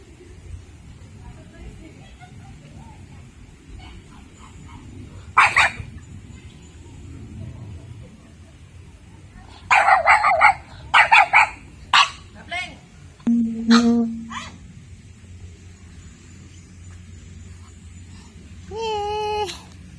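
A dog barks outdoors on a mountain trail on the way to a waterfall, letting out several sharp barks and a few quick bursts, then a high yelping run near the end, with other sounds low in the background.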